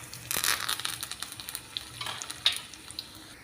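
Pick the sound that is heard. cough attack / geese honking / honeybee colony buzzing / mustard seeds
mustard seeds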